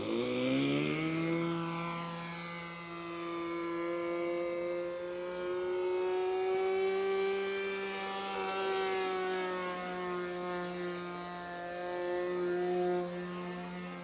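A nitro-powered radio-controlled model aircraft, flown again after fifteen years, drones with a steady buzzing engine tone that rises and falls gently as it passes at a distance, with no talking.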